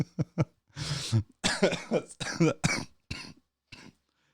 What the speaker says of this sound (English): I got the cough attack.